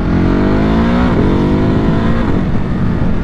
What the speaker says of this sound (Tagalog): Arangkada, tingnan natin arangkada ng Hyper